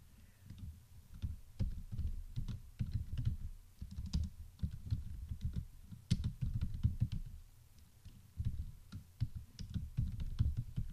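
Keys on a desktop computer keyboard clack in a steady, irregular patter of close, crisp taps, with short pauses between bursts of typing.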